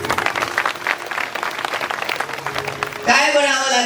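Audience applause at a spiritual discourse on devotion and Lord Ram, a broad burst of many hands clapping under a speaker's amplified voice, growing louder and fuller near the end.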